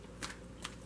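Tarot cards shuffled by hand in two short riffling bursts, soft and close over a steady low background hum, with no talk.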